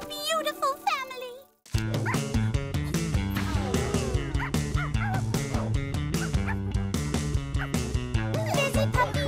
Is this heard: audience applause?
no